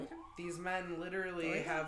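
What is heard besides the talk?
sirens passing outside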